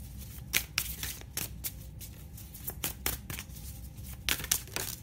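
Oracle cards being shuffled by hand, a series of quick crisp riffles and slaps repeating close up against a quiet background.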